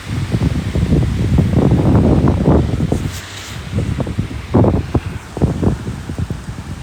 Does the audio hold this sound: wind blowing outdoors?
yes